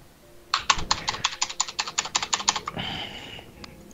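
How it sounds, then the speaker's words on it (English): A computer keyboard gets mashed in a rapid burst of about a dozen clattering keystrokes, close and crisp, ending with a brief scrape and one last tap. "mashing your keyboard isn't going to make it work."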